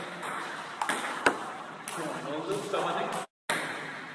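A phone message notification ping sounds sharply once amid ongoing Turkish talk and background chatter, followed by a brief dropout near the end.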